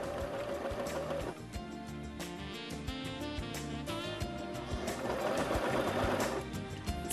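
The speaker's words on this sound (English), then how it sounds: "Stitch the elastic to the fabric." A Brother LS 1217 sewing machine stitching elastic to fabric runs steadily, a close, continuous mechanical whir and rapid needle chatter that speeds up slightly toward the end, with no talk.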